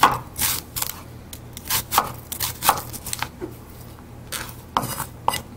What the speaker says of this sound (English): So we're just going to chop up a small shallot.